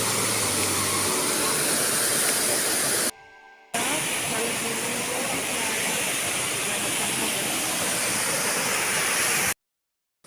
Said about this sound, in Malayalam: കുട്ടികൾക്കൊക്കെ വന്ന് എൻജോയ് ചെയ്യാൻ പറ്റിയ നല്ല ബ്യൂട്ടിഫുള്ളായ വെള്ളച്ചാട്ടമാണ് കേട്ടോ.